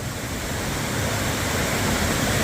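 Stream water rushing over rocks along a hiking trail, a loud steady broadband wash with no pauses or talk.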